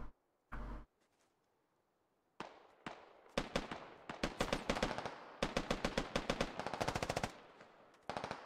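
Rapid bursts of automatic gunfire in the military shooter game Squad, loud and close, rattling in repeated volleys after a couple of isolated shots and a quiet pause.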